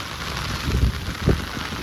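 Rain driven by strong wind at the seashore roars as a steady wash of noise close to the microphone, with two louder gusts buffeting it.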